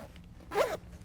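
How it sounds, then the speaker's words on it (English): A zipper on a LeatherCraft SeatSkinz seat cover for a 2015 Ford F-150 SuperCrew is pulled open in one short, close zip lasting about a quarter second. "We're also going to spread this zipper apart."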